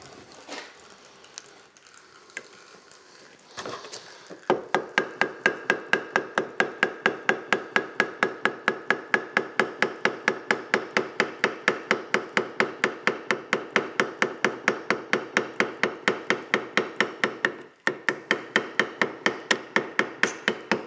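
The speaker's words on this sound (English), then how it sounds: "Use a plastic hammer, just keep tapping, it will come off alright." Plastic hammer tapping steadily on a part of a classic BSA Gold Star motorcycle engine in a workshop, a fast even run of close, sharp knocks that carries on for most of the stretch, with one short break near the end.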